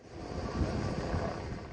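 Helicopter deployed to fight a wildfire threatening homes in Mallakastër, Albania, heard as a steady broadband rotor and engine drone with wind, continuous and moderately distant, without speech.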